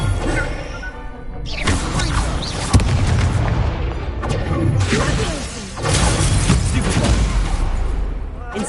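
The Incendio fire spell is cast in Hogwarts Legacy: loud whooshing fire bursts and booming crashes come in waves, with a sharp impact and shattering debris amid the gameplay.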